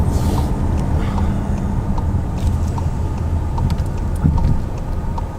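Volkswagen Atlas with a 2.0-liter engine accelerates under full throttle, a steady low engine drone and road rumble heard from inside the cabin with faint ticking noises.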